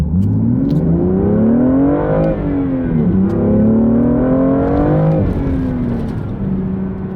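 A car engine revs loudly and close, its pitch climbing and falling in two long sweeps with a steady drone between them.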